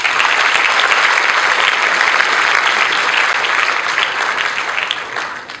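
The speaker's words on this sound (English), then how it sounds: "Give yourself a round of applause." A conference audience at a Penang creative industries event applauds loudly and steadily, a dense wash of many hands clapping that holds for several seconds before beginning to taper off, with no voices over it.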